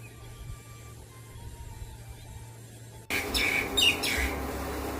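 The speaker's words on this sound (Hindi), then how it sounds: "नीलकंठ," An Indian roller, or neelkanth, calls loudly and close in a few harsh chirps that burst in partway through, after a quiet stretch of faint background sound.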